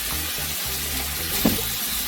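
Onion, carrot and green beans sizzling in a hot pan for fried rice, a steady, close frying hiss with a brief stirring clatter partway through.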